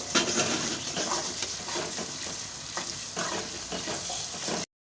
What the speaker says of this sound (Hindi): मैं इसमें लहसुन अदरक का पेस्ट डालूँगी। अब इसको भी थोड़ा सा मैं फ्राई करूँगी